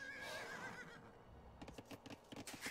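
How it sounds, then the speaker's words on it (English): A horse in Age of Empires II: Definitive Edition lets out a shrill whinny that wavers and trails off, followed by a rapid run of faint clip-clopping hoofbeats, with no voices over it. "Hunyadi, there are quite a few lost horses around here that have been spooked by the Ottomans and escaped"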